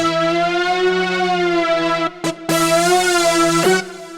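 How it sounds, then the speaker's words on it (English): A loud, harmonically rich synth tone is held and bent with the pitch control of an Ableton Push controller, with brief breaks and retriggers, sustained close and steady with no voice. "your pitch control, and it just basically can bend your notes"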